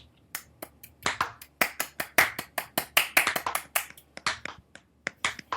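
A slow golf clap from people on a comic book discussion show, a run of about thirty sharp, crisp handclaps, sparse at first then quicker and overlapping, close and alone without speech.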